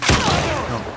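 A short, loud burst of rapid gunfire in The Last of Us Part II, sharp shots cracking close together before trailing off.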